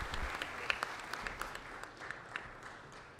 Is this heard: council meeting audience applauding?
yes